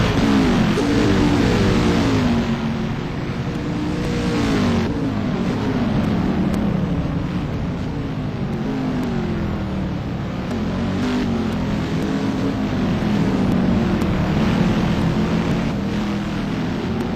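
Touring race cars at Sugo circuit sweep through Rainbow Corner, with loud engine drones rising and falling in pitch as cars pass one after another, a continuous mechanical roar with no speech.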